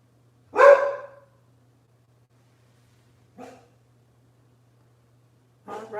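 A dog barks once loudly nearby, then gives two shorter, quieter barks a few seconds apart, with silence between them.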